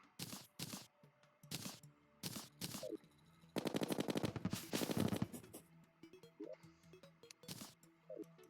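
Rapid gunfire in Terraria Calamity during a pre-Moon Lord stage: bursts of sharp repeated shots, with the densest sustained volley in the middle, sounding loud and close with no talking.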